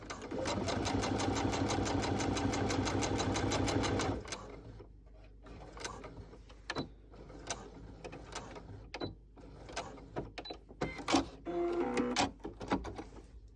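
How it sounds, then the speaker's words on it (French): Sewing machine stitching fabric in a fast, even run of rapid needle strokes for about four seconds, then stopping, followed by quieter handling clicks and rustles. "Et je peux commencer à coudre."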